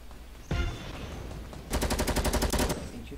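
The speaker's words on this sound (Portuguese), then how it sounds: "Tem tiro perto de você." A burst of gunfire erupts nearby in Fortnite, followed by a rapid automatic volley of roughly a dozen loud shots, no talking.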